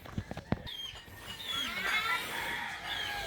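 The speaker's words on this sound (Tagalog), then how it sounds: "Grabe ito mo may mga manok na maliliit oh." Small chickens cluck and chirp faintly in a home yard, with a few brief knocks at the start and soft background voices underneath.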